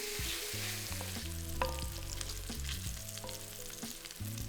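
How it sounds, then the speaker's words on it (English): Smoked bacon lardons frying in a casserole pan, a steady crackling sizzle with occasional stirring scrapes and some low tonal background hum throughout. "Add 170 grams or 6 ounces of smoked bacon lardons and fry for about 6 to 8 minutes until lightly brown,"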